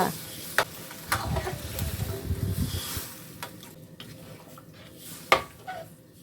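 Pork stir-frying in a pan for a Thai red curry with eggplant: a soft, low sizzle broken by a few sharp spatula clinks against the pan, fairly quiet and close.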